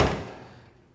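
A single solid thunk as a car door shuts on a 1970 Dodge Challenger R/T with a 440 and four-speed, close and short with a quick decay.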